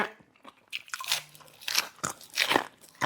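Crisp crunching and biting of dried bullet-head jellyfish while eating, several loud close bites and chews in quick bursts with no talk.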